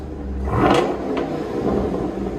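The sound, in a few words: car exhaust revving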